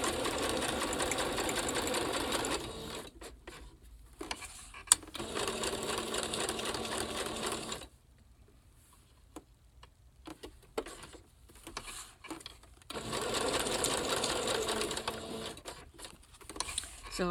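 A sewing machine stitches trim onto a junk journal embellishment in rapid bursts, whirring loudly for a few seconds, pausing, then running again with short quiet gaps between runs.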